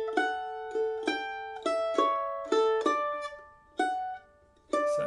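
Mandolin picking the closing bar of the A part of the tune Harvest Home, a quick run of about ten crisp plucked notes with bright, ringing tone, close and quiet with no talking.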